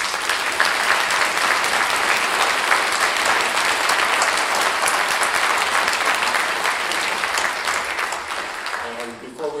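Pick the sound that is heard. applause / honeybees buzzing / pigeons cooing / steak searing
applause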